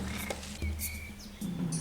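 A frog croaks at night in the wild, a few short low calls set against faint insect and bird chirps in quiet outdoor ambience.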